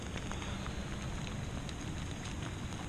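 Steady broadband patter of rain falling on a pond's surface, close and continuous, with a dense hiss and low rumble throughout and no voices.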